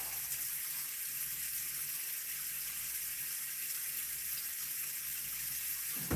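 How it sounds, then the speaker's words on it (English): Tap water runs steadily into a cooking pot in a home kitchen, a continuous hiss and splash that stays even and unbroken for several seconds before cutting off at the end. "That's a lot of water to fill that up."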